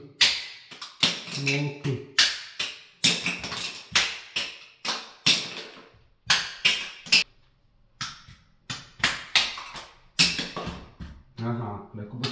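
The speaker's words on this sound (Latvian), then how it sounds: "Ar gumijas āmurīti." A small rubber mallet knocks on wall tiles to loosen them during a Khrushchev-era apartment renovation, giving a steady run of sharp, close taps in quick bursts while someone talks between strikes.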